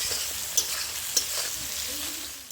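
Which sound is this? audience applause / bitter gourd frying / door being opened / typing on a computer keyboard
bitter gourd frying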